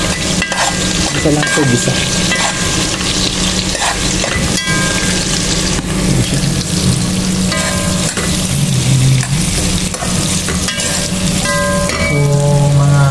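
Onions and carrots fry in a pan for sardine balls, giving a loud, steady sizzle with stirring that runs the whole time, under faint background tones, with a brief spoken phrase.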